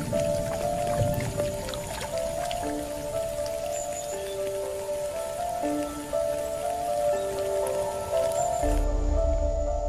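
Steady rainfall in the Yucatan rainforest, a dense continuous patter of drops on leaves and surfaces with a soft hiss throughout, overlaid with music.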